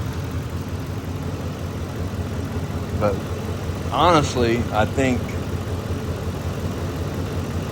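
A 2004 Ford F150 with a 5.4L engine idling under timing checks, a steady loud low rumble close by throughout, with someone talking briefly over it.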